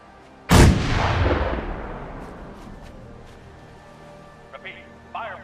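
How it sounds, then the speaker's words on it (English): A single heavy artillery blast from a barrage in Fallout 4 booms loudly and rolls off into a long fading rumble, followed by faint clicks and brief radio-like chatter. "All batteries, prepare to fire on my mark. 5, 4, 3, 2, 1. Fire for effect!"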